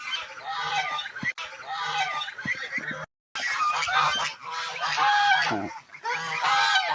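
Chinese geese honk loudly and almost continuously in a close, noisy flock, their harsh calls overlapping with only a brief silent gap.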